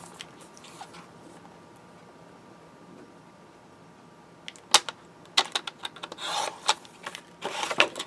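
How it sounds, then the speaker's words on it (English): A square layering piece of solid black paper for a 3x3 notecard is trimmed on a paper cutter: a quiet rasp at first, then a run of sharp close clicks and scraping strokes of the blade. "we're going to cut a layering piece for the inside that's going to measure 2 3/4 square"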